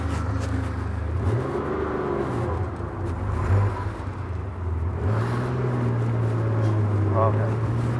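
A 1984 Ferrari 512BBi, right-hand drive, warmed up and revving hard: the engine note climbs and falls in strong surges, loud and close, with someone talking over it.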